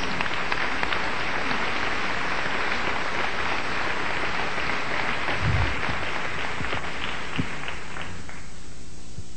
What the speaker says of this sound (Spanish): Aplaude con ánimo, con ganas